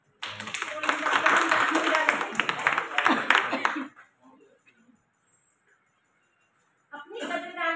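Audience applause rings out at a Women's Day celebration stage show, a dense burst of clapping lasting several seconds alongside a speaking voice, then falling silent before a brief voice returns near the end.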